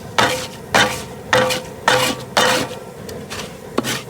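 Kettle corn sugar stirred in a pot over a propane cooker: a utensil scrapes and rubs against the metal in about seven regular strokes, close and fairly loud, with no talking.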